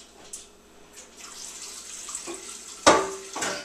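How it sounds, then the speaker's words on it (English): Purified water runs and splashes into a metal pot for brewing wort, with a soft trickle at first, then a louder clank and gush near the end. "I would put a little bit of purified water just up to here"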